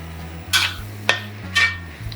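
Green onions get stirred into sizzling chicken chow mein, where a spatula strikes the pan three times in a steady rhythm over a faint background sizzle and a low hum.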